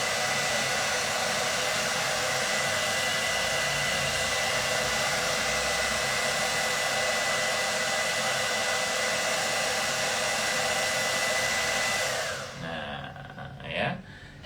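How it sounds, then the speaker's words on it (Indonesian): A hair dryer blowing on teased, sprayed hair, a loud, steady, close whoosh running unbroken for a long stretch before being switched off, followed by faint handling noises. "Kita kencengin pakai hair dryer."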